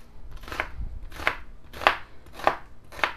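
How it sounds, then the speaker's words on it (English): A knife dicing a purple onion on a cutting board: five sharp, evenly spaced chops about half a second apart, close and clear, with no voices. "we're going to just dice up our onion right now"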